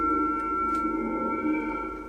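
A sustained, droning tonal tape loop with stacked steady pitches, washed in heavy reverb turned all the way up that smears it into a dense, continuous wall of sound.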